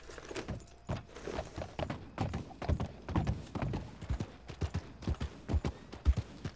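Horse hooves clip-clopping at a steady gallop in Red Dead Redemption 2, a quick repeated rhythm of thuds with faint jingling tack, fairly close and unaccompanied by talk.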